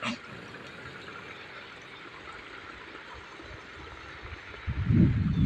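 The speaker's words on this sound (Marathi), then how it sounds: "वरून थोडं थोडं पाझरून पाणी खाली येत आहे" Water seeps and trickles down over a small check dam in farmland, a steady, soft outdoor wash of flowing water that stays fairly even, with a louder low rumble near the end.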